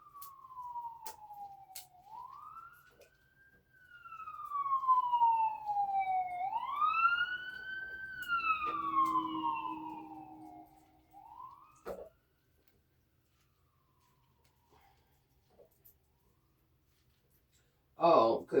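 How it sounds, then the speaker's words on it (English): An ambulance siren wails up and down in long sweeping cycles, loud and fairly close for about twelve seconds, then cuts off, leaving near silence before a short burst of sound at the end. "ambulances are here"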